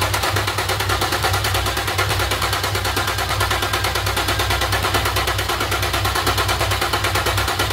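A car engine runs steadily close by, its rapid, even pulsing firing rhythm holding constant throughout with no other sounds on top.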